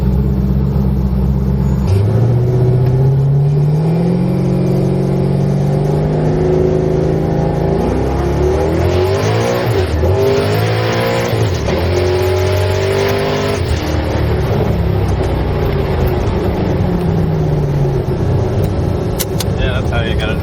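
High-powered Camaro muscle car of about 1500 wheel horsepower, its engine loud and close, climbing through revs with rising and falling pitch sweeps as it accelerates while driving.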